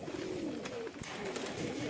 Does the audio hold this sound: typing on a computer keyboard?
no